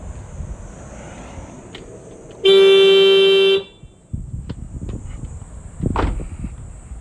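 A single loud car horn blast lasting about a second, standing out sharply against quiet engine and street background.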